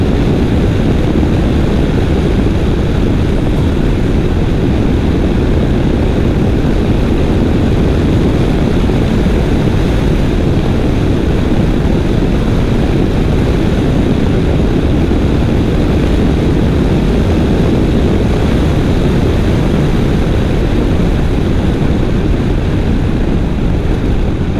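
A 1993 BMW R100GS motorcycle, Mystic Red, cruising in fifth gear gives a steady, loud, unbroken engine drone with wind rush, constant and close for the whole stretch, no talking.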